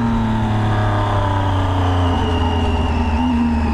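Triumph Tiger 800 motorcycle engine with a slipping clutch, revving at a steady high pitch, close and loud and continuous, with no talk.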